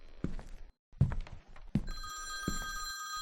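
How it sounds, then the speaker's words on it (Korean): A telephone rings with loud, sharp electronic trills starting near two seconds and sustaining to the end, preceded by a few heavy thuds and footsteps in a quiet apartment during a police investigation. "전화가 울리니까 받아봅시다."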